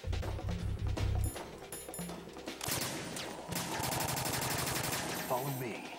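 Video game gunfire in Arsenal Material Liquid 3: Daughters of Freedom, with rapid machine-gun bursts and overlapping shots running almost continuously and loud, mixed with game effects and a voice talking over it.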